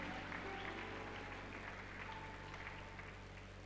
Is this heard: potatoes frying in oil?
no